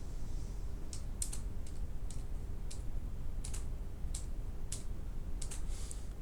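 HTML code typed on a computer keyboard, heard as scattered bursts of crisp key clicks at an irregular pace over a low steady hum, with no voice.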